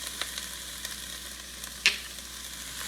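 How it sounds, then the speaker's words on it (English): Garlic sizzling in a hot pan for minestrone soup, a steady close hiss of frying with faint crackles and one brief sharper pop. "So now I'm going to add the garlic."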